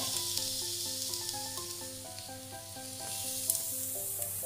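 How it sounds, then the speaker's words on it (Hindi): Spiced potato filling for samosas frying in a pan with salt and garam masala, giving a steady bright sizzle and hiss with light stirring, close and continuous over soft background music. "इसे अच्छे से मिलाएंगे और दो से चार मिनट तक फ्राई करेंगे"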